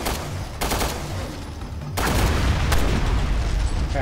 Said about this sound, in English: I'm putting shots on targets.